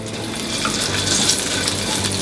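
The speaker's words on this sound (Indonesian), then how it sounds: "Kita tumis sampai kencurnya itu wangi atau harumnya itu keluar guys ya" Crushed kencur sautéing in hot oil, a close, dense, bright sizzle with fine crackles that holds steady throughout, with no one speaking.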